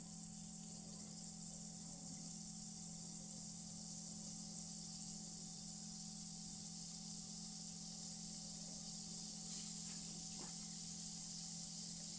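Jalebi batter frying in hot oil gives a steady, faint sizzle with an even hiss and a constant low hum underneath, unbroken and free of speech.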